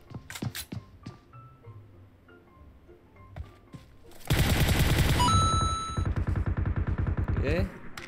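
Gunfire in the PUBG Mobile game, solo versus squad, starts with scattered single shots, then breaks into loud rapid automatic bursts with a ringing tone over them.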